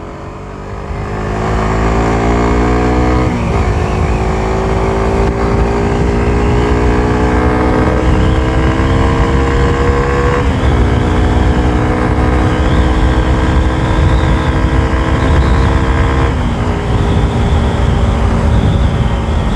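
Honda Click 125 and Raider 150 Fi motorcycles on a Sunday group ride drone steadily at cruising speed, a loud continuous engine hum with smooth pitch shifts at a few gear changes, wind rumble underneath, no talking.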